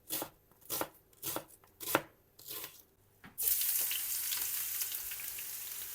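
Chopped onions, four large ones, go into hot oil for lecho, a pepper and tomato stew. A few knife chops on a board come first, then a loud, steady sizzle takes over and keeps going.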